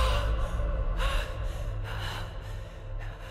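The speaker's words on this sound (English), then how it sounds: "we hear her gasp for air" A woman gasps for air in the sci-fi video game Returnal, a few sharp, breathy intakes and exhales close up, layered over a low rumbling ambient drone.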